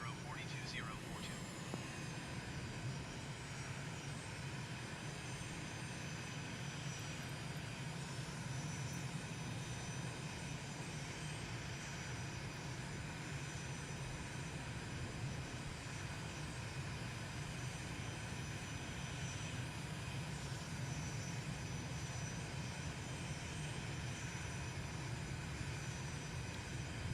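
Aircraft engines roar steadily through a takeoff roll in a flight simulator game, a dense, constant drone with a whining high tone that holds loud and unbroken throughout, with no talk over it.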